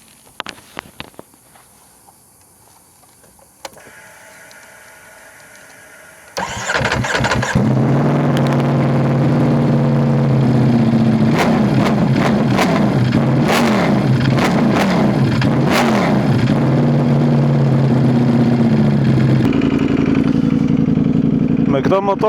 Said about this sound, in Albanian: ngjoni pak zhurmën e këtij motori.